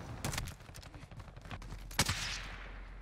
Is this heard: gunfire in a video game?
yes